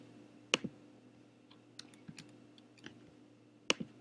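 Short search term typed on a computer keyboard: a handful of sparse, separate key clicks spread over a few seconds, close but quiet, over a low steady hum.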